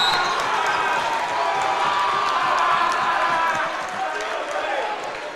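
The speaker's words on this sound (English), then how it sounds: "Crowd here in Freeport tonight, and they got some energy in them" Energetic basketball crowd at a high school game in Freeport, Illinois, a steady dense roar of cheering voices with scattered shouts and squeaking, sneaker-like bursts, loud and continuous, easing slightly toward the end.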